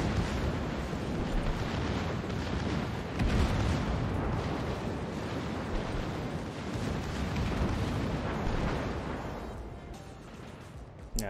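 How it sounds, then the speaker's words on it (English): Secondary guns of a warship in the World of Warships naval game, a dense continuous barrage of booming explosions and blasts, loud and rumbling, fading near the end. "just the explosions from the secondaries"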